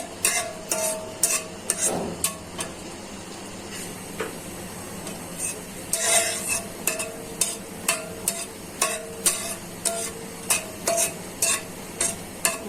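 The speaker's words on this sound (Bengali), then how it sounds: "মরিচটা ভালো করে ভাজা হয়ে যাক।" Dried red chillies fry in oil in a pan for a bitter gourd mash, giving a steady close sizzle broken by repeated sharp scraping and clinking stir strokes, with no talking.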